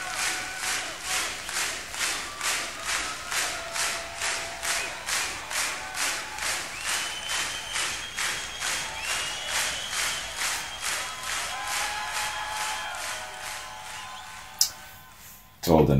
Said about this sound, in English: listen to the crowd, just digging that